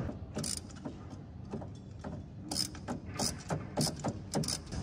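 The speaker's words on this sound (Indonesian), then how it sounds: "Ya, kita putar. Kita pasang untuk ratchetnya." A ratchet wrench turning a spark plug into a car engine during a tune-up, with repeated bursts of sharp ratcheting clicks in uneven rhythm, close and fairly quiet.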